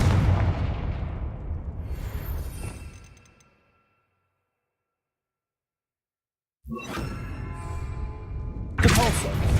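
A Confringo blasting spell going off in the Hogwarts Legacy video game: a loud booming blast that rumbles and fades over a few seconds, then silence, followed by renewed loud explosive rumbling and a sharp burst near the end.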